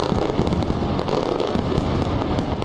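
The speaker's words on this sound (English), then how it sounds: "Italians put the budget fiasco behind them as they greeted the new year with fireworks and a live concert" New Year fireworks burst outside the Colosseum in Rome, a dense, continuous crackle of explosions and pops at a loud, steady level, with no voices heard.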